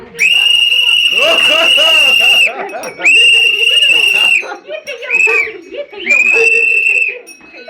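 A person whistles four long, high, steady notes with short pauses between them, close and loud.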